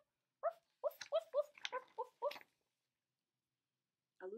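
A quick run of several sharp barks from huskies close by, followed by a pause and another short bark near the end.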